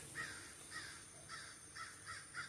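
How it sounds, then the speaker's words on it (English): Crows caw outdoors near a tent in open countryside, about six faint, distant calls at uneven intervals over a quiet background, with no voices. "You can hear the crows over there."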